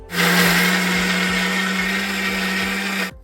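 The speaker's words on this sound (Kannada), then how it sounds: "ಇದನ್ನೀಗ ಸ್ವಲ್ಪ ಮೊಸರು ಹಾಕಿ ಗ್ರೈಂಡ್ ಮಾಡೋಣ" A mixer grinder whirs steadily, grinding poha with curd in a loud continuous drone with a strong low hum that starts abruptly and cuts off at the end.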